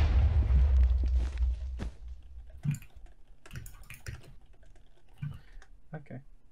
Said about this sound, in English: So I was typing.